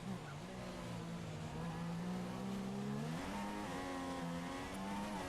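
Renault Formula 1 car in the F1 2016 racing game at Austria, its engine droning loudly and steadily with rising pitch as it pulls out of the pits, with faint tire noise.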